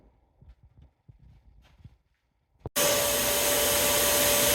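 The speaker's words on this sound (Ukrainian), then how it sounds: "з тої сторони великий поток повітря для того, щоб вибивати не одразу фарбу" A steam cleaner used for detailing a Mercedes G-Class bursts on after a few faint taps and knocks, then blows a loud, constant rushing stream of air to the end.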